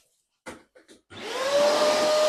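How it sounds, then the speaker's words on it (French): A Parkside wet and dry vacuum cleaner running in blower mode starts after a few handling clunks, whining up to a loud, steady rushing blow close by. "si vous mettez votre tuyau du côté arrière de l'aspirateur, là, vous le transformez en fonction souffleur"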